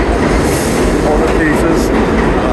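An older subway car on a BMT line in Brooklyn rumbles past close by, a steady loud roar of wheels and rail noise with faint high squeals, and some indistinct voices blend into the din.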